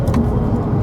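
BMW E46 M3 CSL engine droning steadily while driving, a loud, continuous low mechanical hum with no pauses and no talking.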